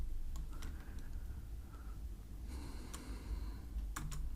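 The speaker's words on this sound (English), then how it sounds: "I'm gonna type here" Scattered key clicks from a computer keyboard while entering code, a few sparse taps early, then a denser burst of typing near the end, close and fairly quiet over a steady background hiss.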